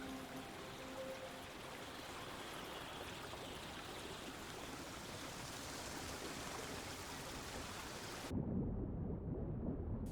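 Stream water rushes steadily through dark creeks in the Elbe sandstone landscape, a dense, continuous hiss and gurgle at close range that shifts to a deeper, muffled flow near the end.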